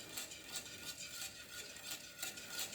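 Homemade soap mixture made from used cooking oil being stirred by hand in a container, a soft rhythmic scraping and swishing that repeats steadily, quiet and close with no talk.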